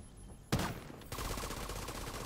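A shotgun blasts once, sharp and close, in The Division 2, followed by a dense rattle of continued gunfire and effects filling the rest of the moment.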